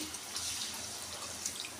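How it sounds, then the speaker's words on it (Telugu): A small amount of water poured into a pan of bitter gourd curry, a short, soft splashing trickle lasting under two seconds. "కొద్దిగా వాటర్ వేసి"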